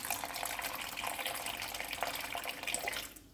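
Water is poured into a pan of chicken piccata cream sauce. It gives a steady splashing trickle that stays fairly quiet and close, with no speech, and it ends abruptly.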